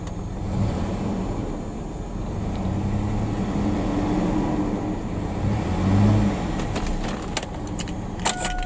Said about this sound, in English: We're letting the engine run a couple seconds. I like to rev it up just a little bit.